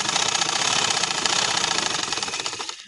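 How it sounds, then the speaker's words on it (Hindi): A sewing machine runs in one steady rapid burst while stitching a pillow cover, loud and close, with a dense mechanical whirr that slows slightly at the end. "अब मैंने इसके ऐसे पकड़ के एक एक पैर की सिलाई लगानी है,"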